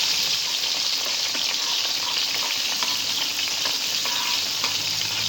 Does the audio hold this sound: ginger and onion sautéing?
yes